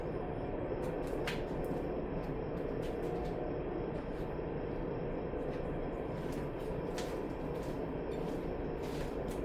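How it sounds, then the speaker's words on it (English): A train rumbles steadily past on nearby railroad tracks, a continuous low roar filling the background with scattered faint clanks and no talking. "Sorry about the train in the background."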